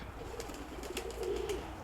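A domestic pigeon coos softly among a backyard flock of grey and steel-coloured birds, low murmuring calls repeating close by over faint background noise.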